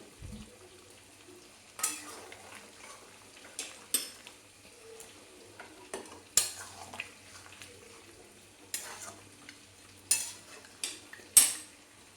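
Fried potatoes are stirred into chicken curry in a pan: a soft simmer broken by repeated clanks and scrapes of a metal spoon against the pan, spaced irregularly and close, with no one talking.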